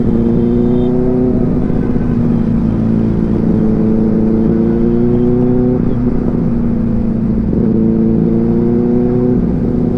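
A Benelli TRK502 motorcycle with a 500cc parallel-twin engine drones steadily while riding, its engine pitch rising and falling through gear changes under continuous wind and road noise.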